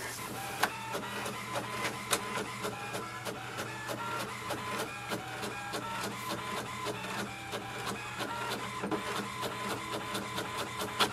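An HP Envy Pro 6452 inkjet printer prints a confirmation page, a steady run of rapid mechanical clicks and ticks with occasional louder clacks over a constant low motor hum, close up and without talk.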